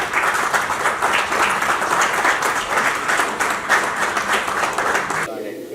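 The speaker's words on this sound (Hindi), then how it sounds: "तो एक तालियां मैं चाहूंगी आप सब जो आर्टिस्ट यहाँ हैं उनके लिए।" An audience at an Indian folk art gallery event claps for the folk artists present, a full, lively burst of many hands with audible individual claps, loud and steady before cutting off abruptly near the end.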